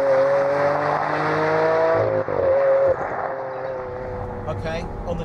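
The 6.5-litre V12 engine of a Lamborghini Aventador runs loud and close with a steady, sustained tone. The note shifts and then drops away near the end, and some voice is mixed in.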